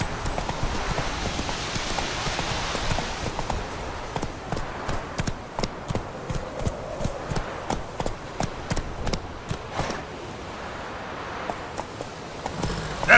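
Roach the horse gallops in The Witcher 3, hooves beating out a rapid, regular clip-clop rhythm close by, with a short stretch of softer ambience in the middle.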